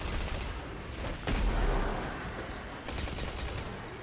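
Weapon fire in Destiny 2 rolls on in dense, continuous bursts, with a heavier blast standing out partway through over a busy, loud game soundscape.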